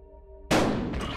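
A single loud shotgun blast in Buckshot Roulette, sudden and close over a quiet tonal hum, ringing out briefly with a second smaller burst just after.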